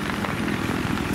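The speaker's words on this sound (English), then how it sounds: "we have an unfriendly helicopter on our 9 o'clock" Enemy helicopter in the Battlefield 3 video game, a steady close rotor drone with dense low chopping beating continuously at a loud, even level, with no voices.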